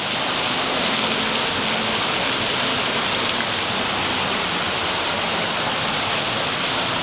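Water crashing steadily down at a cave behind a theme park waterfall at Knott's Berry Farm, a loud, unbroken rushing roar that fills the whole stretch without pause.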